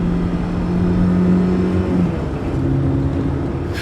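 BMW E30 M3 engine blipping during a rev-match downshift, heard from inside the car as a sustained droning engine note that holds, dips, then settles at a lower pitch, close and fairly loud.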